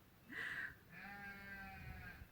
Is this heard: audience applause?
no